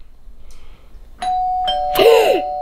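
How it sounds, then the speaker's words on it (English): A doorbell rings nearby, a clear two-note chime, the second tone louder and ringing out, after a few soft taps. "The doorbell! The door!"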